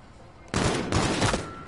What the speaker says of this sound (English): Shoot him with a pistol!